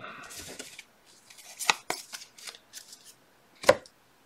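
Dice rattle and clatter in short bursts for a baseball board game, with several quick knocking rolls and a sharper tumble near the end, no voices.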